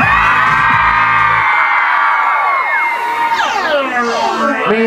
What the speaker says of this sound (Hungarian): az egész tömeg, mindenki, fiúk és lányok, dupla brutál hangerővel ordít